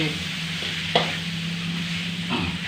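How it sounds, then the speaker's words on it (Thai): Chunks of field rat meat are stir-fried with holy basil in a pan, a steady low sizzle with a couple of distinct scrapes and knocks from the spatula, close and without talk. "ผัดนะครับ ผัดไป"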